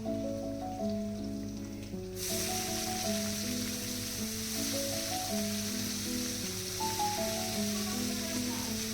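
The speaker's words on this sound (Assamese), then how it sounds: "গৰম তেলত তাই পিঁয়াজ, শুকান জলকীয়া আৰু এই ভোট জলকীয়া" Onion and dried chillies, along with bhut jolokia, sizzle steadily in hot oil on a home stove, a dense continuous crackle that swells after the first two seconds beneath a layer of steady tonal music.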